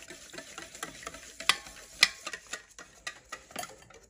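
Mashed sweet potato being stirred, giving soft, irregular wet scraping and tapping strokes with a couple of sharper clicks, close and fairly quiet, with no talking.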